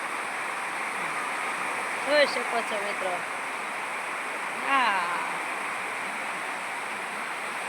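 Steady wind-driven rain pours down onto a village festival tent in a dense, even hiss, with a voice speaking briefly twice over the downpour.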